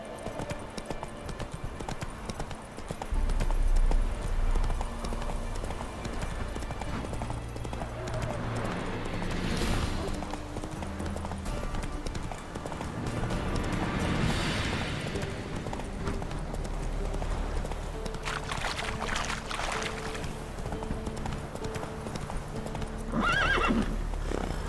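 A horse in the video game Witcher 3 gallops with steady clip-clop hoofbeats over a low rumble and lets out several loud whinnies along the way.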